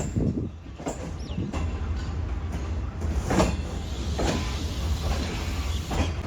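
Shah Hussain Express train rolling out of Khanewal station, a steady low rumble of the locomotive and carriages with rhythmic clanks and rattles of wheels over track joints, close and continuous.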